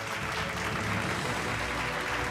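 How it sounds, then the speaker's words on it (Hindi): Audience applause at an education conclave, a continuous wash of clapping from a crowd, steady and fairly even throughout. "जोरदार तालियां हो जाएं सर के लिए"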